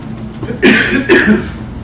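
Two sharp coughs close together, loud and near, with no talking around them.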